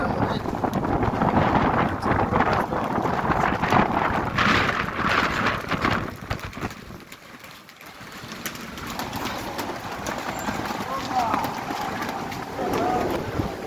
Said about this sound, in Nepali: पुरा हावा बतास चल्दैछ है